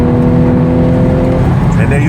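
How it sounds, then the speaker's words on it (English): An Audi S5 accelerates at full throttle in third gear from about 70 mph, its engine giving a loud, sustained roar with rising tones under a voice. "70, 3rd gear, and then mat the throttle."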